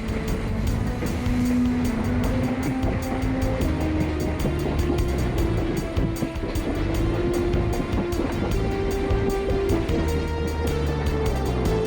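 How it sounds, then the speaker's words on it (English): An antique train running on a restored zigzag mountain railway, a steady loud rumble of wheels and running gear with a droning tone, continuous and close throughout. "Since that time, the antique train rushes once more through the mountain area."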